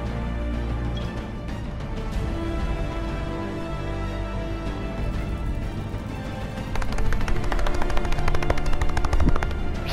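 Rapid automatic gunfire from a Battlefield V Firestorm match, a dense continuous clatter of shots that grows louder and sharper toward the end, with no talking.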